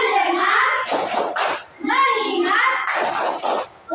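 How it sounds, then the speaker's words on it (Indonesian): Children clap the tepuk fokus rhythm in a classroom, a few sharp group claps in short bursts between loud chanted children's voices. "Saya mau tes kamu dengan tepuk fokus."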